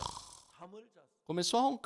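A preacher vocally imitates a sleeping man snoring, giving a few drawn-out, rasping snore sounds during a sermon at a Bible conference.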